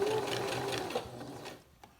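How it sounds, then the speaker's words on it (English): A sewing machine stitching a fabric face mask, a fast close mechanical whir that runs steadily and then winds down and stops near the end. "we're just gonna keep sewing"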